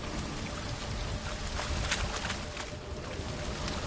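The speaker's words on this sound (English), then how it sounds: "A waterfall flowing upwards?" A waterfall flowing upwards in The Witcher, heard as a steady rushing, splashing water noise at moderate volume with no voices.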